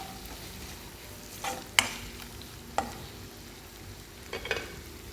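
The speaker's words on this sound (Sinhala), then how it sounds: "එකතු කරලා අපි චුට්ටක් කලවම් කරගමු දැන්" Beans, carrots and tomatoes fry in a pan for a vegetable soup, a low continuous sizzle broken by a few sharp spoon scrapes and clinks as they are stirred, close and fairly quiet.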